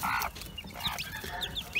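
Soft clucking from a hen feeding her chicks, with short chirps and high peeping calls from the chicks repeating faintly up close.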